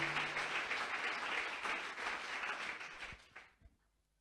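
A church congregation breaks into sustained applause and cheering, a dense wash of many hands clapping together that holds steady before tapering off and dying away near the end.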